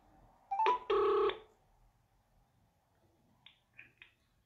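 A telephone rings for a call: a loud, close burst of ringing tone, a pause, then two or three short, quieter electronic tones on an otherwise quiet line.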